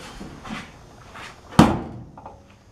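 A car door on a Mustang, its rear end rebuilt with a welded panel, swings shut with one loud, close slam after faint handling noises in a quiet workshop.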